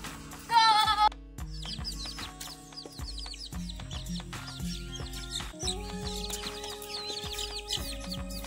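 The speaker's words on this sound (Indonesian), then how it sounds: "Ini ayamnya dikasih kangkung." Backyard chickens clucking and murmuring while eating water spinach, with a loud squawk near the start, then steady soft clucks and chirps among scattered clicks and faint bird calls.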